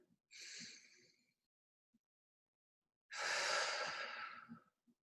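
Two slow, deep breaths close to the microphone: a short inhale, a pause, then a longer, fuller breath in a quiet room.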